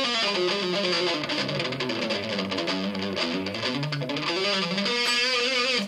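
A heavily distorted electric guitar through a Line 6 POD X3 Live with distortion at 50 plays sustained chords with a thick, saturated tone, loud and continuous throughout.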